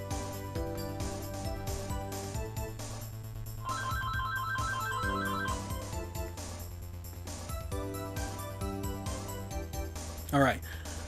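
A phone ringtone plays a repeating electronic melody over a game's background music, with a brief sharp sweep near the end.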